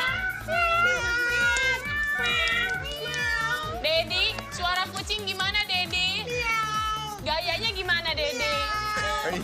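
A cat meowing in a sound-guessing game, heard as repeated drawn-out, wavering meows that run nearly nonstop, loud and close, over children's voices and a busy background.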